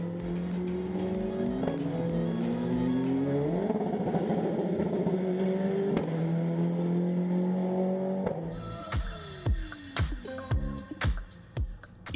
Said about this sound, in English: Right on board the 45 DR Formula car, driven by the Guatemalan Ian Rodriguez